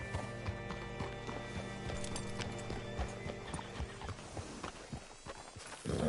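Horse hooves clip-clopping in Red Dead Redemption 2, a steady walking rhythm with a whinny, fairly close, ending in heavier stamping near the end.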